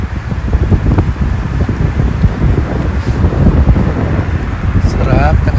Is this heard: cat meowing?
no